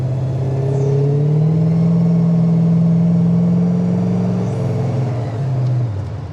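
Engine of a 1967 Pontiac LeMans GTO tribute with fuel injection starting and settling into a steady, loud idle on a cold day, a deep continuous rumble with slight rises in pitch, alone without talk.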